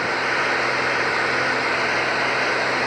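A Cessna Centurion light aircraft engine in flight in light rain, heard as a loud, constant, even drone and broadband rush from inside the cabin, with no talk over it.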